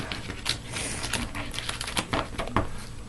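Marvel Legendary card decks are riffled and shuffled at close range, giving a quick run of crisp, uneven flutters and taps over about three seconds with no talking.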